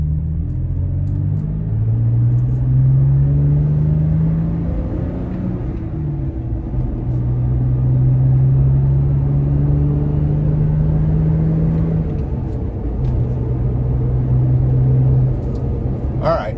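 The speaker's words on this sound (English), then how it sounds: "We're starting from a rolling 10 miles an hour, and I'm just going to accelerate." A 2020 Toyota Tacoma with an S&B cold air intake accelerates from a rolling start, heard from inside as a steady low engine drone that rises and eases across several gear changes.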